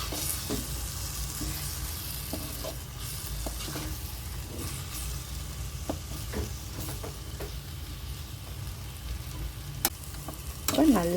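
Egg frying in a pan for kothu parotta made with leftover chapati, a steady close sizzle broken by repeated scraping and stirring clicks of a spatula, with no talk.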